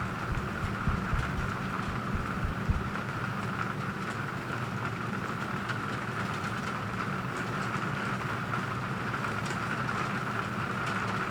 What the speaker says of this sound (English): Listen to that rain.